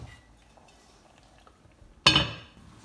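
A lid drops onto a pot of chili con carne with one sudden, close metallic clank that rings briefly after a quiet stretch.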